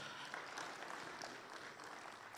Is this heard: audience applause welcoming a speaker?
yes